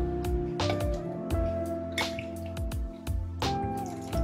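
Liquid from lemon slices drips and splatters irregularly in quick, close, wet plops, with some squishy sounds among the drops.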